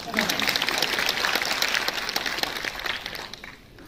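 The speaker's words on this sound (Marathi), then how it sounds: "पुन्हा एकदा मी म्हणतो म्हणून टाळ्या वाजव" A crowd applauds loudly for several seconds, the dense clapping tapering off toward the end.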